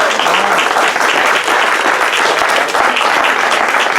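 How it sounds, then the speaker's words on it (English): Outdoor crowd at a political event on a farm in San Benito County, California, applauding loudly and steadily, the dense clapping holding strong from start to finish. "Please give him a round of applause."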